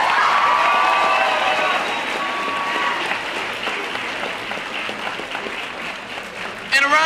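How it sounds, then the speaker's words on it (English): Audience applause with cheering and whoops at an anime convention cosplay contest, loud and sustained across the room before gradually thinning out, with a fresh burst of cheers near the end. "Let's give a round of applause to everybody that entered today."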